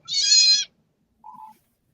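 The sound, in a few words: kitten meowing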